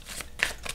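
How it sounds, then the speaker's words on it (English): A Hedgewitch Botanical oracle deck of forty cards is shuffled vigorously by hand, giving a few quick, soft papery swishes and riffles, faint and close. "as far as shuffling goes, I feel like they shuffle pretty well"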